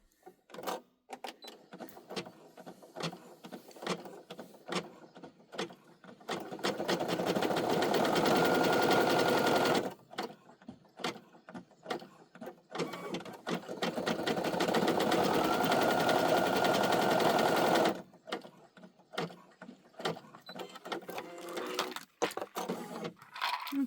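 A Brother SE1900 embroidery machine stitches a patch, its rapid needle chatter running in two long steady stretches, close and fairly loud, with short quiet gaps and light handling clicks between them.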